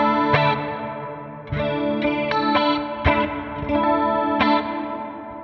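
Clean electric guitar notes and strummed chords ring out through a Line 6 Helix Dynamic Hall stereo reverb, each attack blooming into a wide, sustained wash that carries between strikes.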